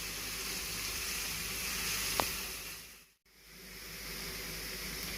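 Onion frying in a kadhai, a steady loud sizzle and hiss with one brief sharp tick midway and a short dip in the noise.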